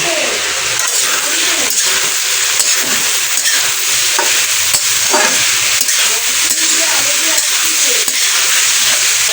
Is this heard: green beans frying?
yes